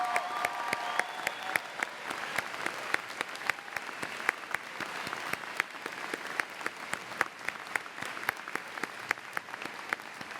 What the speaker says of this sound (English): Please join me in applauding them one more time regarding their accomplishments